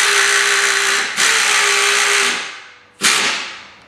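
A power socket tool drives 5/8 and 9/16 inch bolts on an EZGO TXT golf cart spindle during a lift kit install, with two loud, close whirring bursts, each ending in a fading spin-down.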